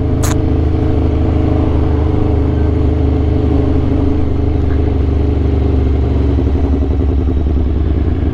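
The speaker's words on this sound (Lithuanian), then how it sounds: "su šito motociklu tikrai visi tave girdi ir tikrai atkreipiu dėmesį, nes jis yra žiauriai triukšmingas" An Aprilia RSV4 superbike engine roars loud and close, a steady throbbing rumble that shifts pitch slightly as it runs, very noisy, with no talk over it.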